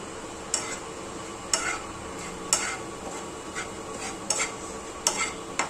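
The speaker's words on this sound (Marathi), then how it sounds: "तोपर्यंत इकडं हे बेसन भाजून घेते मी पॅनमध्ये" Gram flour (besan) is dry-roasted in a pan, a utensil scraping and stirring it in steady strokes roughly once a second, close and fairly quiet, with no voices.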